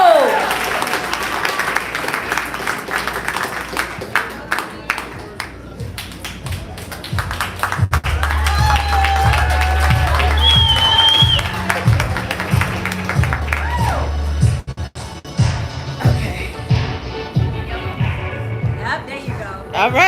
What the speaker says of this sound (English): Y'all clap it up for your next 3